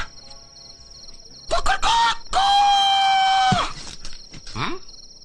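A person's voice imitates a rooster crowing: a rising call, then one long, loud, sustained crow of about a second, with a few brief vocal noises before and after.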